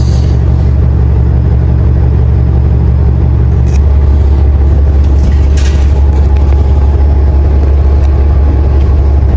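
Steady low engine drone heard from inside a riding city bus in Mississauga, Ontario, loud and continuous, with a droning hum that drops away partway through while the rumble carries on.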